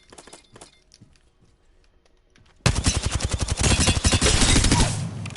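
Volt SMG firing in Apex Legends, a loud sustained burst of rapid automatic shots that starts abruptly partway through, after quieter scattered game sounds, with no talk.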